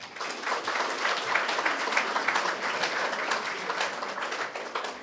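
A lecture audience gives steady, dense applause that lasts the whole five seconds. It is fairly loud and even throughout, with no voices over it.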